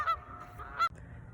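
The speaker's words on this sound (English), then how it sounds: "saw we have some Canada goose friends. They're not happy I'm walking near them" Canada geese honk twice in short, harsh, nasal calls over quiet outdoor background, with a faint third call trailing off, close by and alone without talk.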